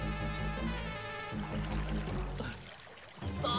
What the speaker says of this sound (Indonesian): air sungai tempat kura-kura berenang menjadi sangat deras